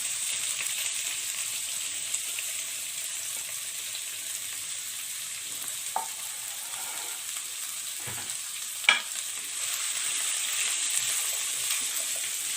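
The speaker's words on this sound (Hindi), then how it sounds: "2 टेबलस्पून कुकिंग ऑयल में 2 जवे लहसुन के क्रश किए हुए इनको मैं सौते करूँगी।" Crushed garlic sautés in about two tablespoons of cooking oil, a faint, even sizzle and crackle running throughout with a couple of brief utensil knocks and no talk.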